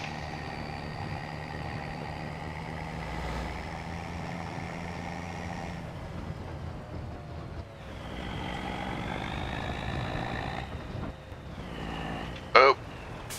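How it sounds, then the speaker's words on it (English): Tractor trailer driving in Farming Simulator 25, a steady engine drone with harmonic whine that shifts pitch as it changes speed, continuous and close, with a brief sharp clatter near the end. "while I drive a tractor trailer"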